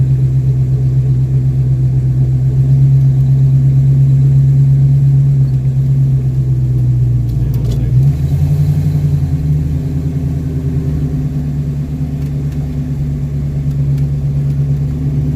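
A 1974 AMC Javelin running on a NASCAR oval at Rockingham, its engine a loud, steady low rumble close by, shifting in pitch midway as it rolls off, with no talk over it.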